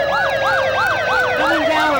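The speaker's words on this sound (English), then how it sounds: "Coming down with full sirens." Emergency vehicles with full sirens wailing in a 1988 anniversary parade, several loud overlapping rising-and-falling siren tones close by, with a second siren joining partway through.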